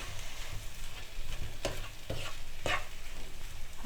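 A spoon works through a vegetable roll filling with tamarind in a pan, giving steady soft scraping and stirring with a low sizzle underneath and a few sharper scrapes against the pan.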